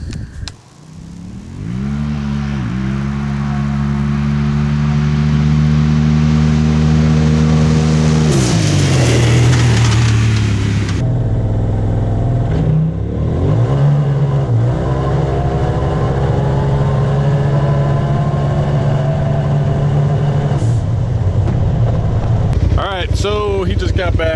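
A vehicle fitted with an Evo Stage 3 tune on 93 octane revs hard on a test run, its loud engine note climbing and settling through several pulls, steady and close with wind rush, briefly cutting out partway.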